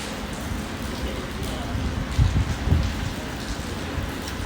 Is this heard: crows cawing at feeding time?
no